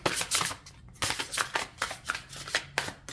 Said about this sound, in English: These cards are actually heavy, so they can get hard to shuffle at times.